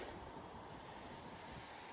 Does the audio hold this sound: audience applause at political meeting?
no